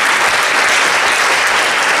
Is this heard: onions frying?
no